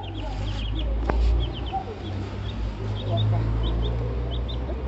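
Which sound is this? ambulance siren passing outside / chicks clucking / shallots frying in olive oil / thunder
chicks clucking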